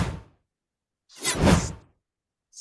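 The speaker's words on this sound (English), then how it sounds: "This sweep sound is in all whooshes." Sweeping whoosh from a Nevron attack in the video game Clair Obscur: Expedition 33: a short airy swish, then a louder, fuller rising-and-falling sweep lasting under a second, with silence between and a brief tail at the end.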